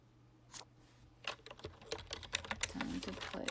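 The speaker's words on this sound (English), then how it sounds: "You might hear me typing in the background." Someone types on a computer keyboard while playing a Clue iPhone game, starting with a few scattered key taps and building into a rapid, close run of clicks.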